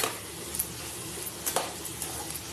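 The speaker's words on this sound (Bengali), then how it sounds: "এবার হচ্ছে কিছুক্ষণ নেড়ে নেওয়ার পালা।" A spoon scrapes and clinks against a pan while bottle gourd and shrimp curry is stirred, with soft irregular metallic taps and a few sharper knocks over a quiet kitchen background, with no talk.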